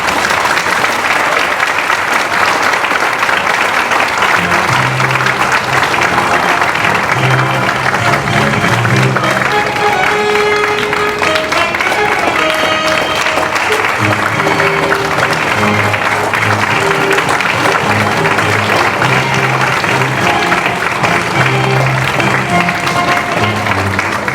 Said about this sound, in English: We're just going to do a round of applause for you as you go back up the aisle